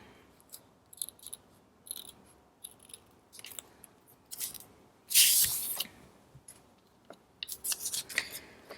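Scissors cut paper collage pieces in a series of close snips and rustles, with one louder burst of crinkling partway through.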